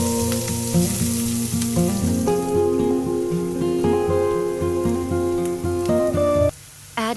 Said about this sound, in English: sauté the onions until soft